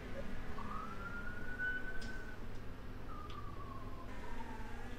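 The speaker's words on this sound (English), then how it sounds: "I hear the sirens." Emergency vehicle sirens wail faintly from a distance outside, two rising and falling sweeps heard over a steady background hum.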